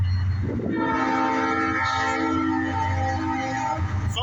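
A northbound CSX freight train rolls past close by, its horn blaring loud and sustained almost the whole time over the heavy rumble of the locomotive and cars.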